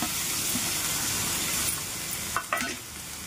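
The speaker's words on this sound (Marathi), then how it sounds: "आता हे छान फ्राय करून घेऊया" Peanuts and banana pieces frying in a pan for a fasting meal, giving a steady close sizzle with light stirring scrapes and a couple of brief clinks near the end.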